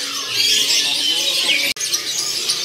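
White-eyed jalak starling calling at a bird kiosk among perkutut dove sellers, a dense run of bright chirps and whistles over a steady shop background, with a brief dropout near the end.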